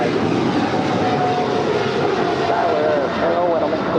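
A four-year-old Boeing 777 freighter taking off at Los Angeles airport, producing a loud, steady, broad jet roar with a faint wavering whine on top, sustained throughout without pause.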